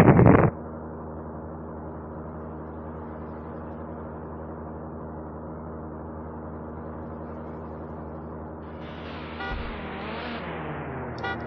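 Cars racing in Need for Speed Hot Pursuit 2, a steady droning engine tone held for several seconds after a brief loud burst, with a rising whine near the end.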